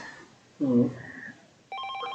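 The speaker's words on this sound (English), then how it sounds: "the ringing phone broke his train of thought" A landline telephone in the video game 428: Shibuya Scramble starts ringing near the end with a bright electronic trill. A short voiced sound comes first, and a faint tone hums in the background.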